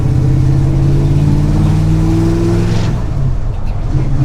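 A 1969 Dodge Charger R/T with a pro street build drives along, its engine a loud, close, steady drone whose pitch climbs before easing off near the end.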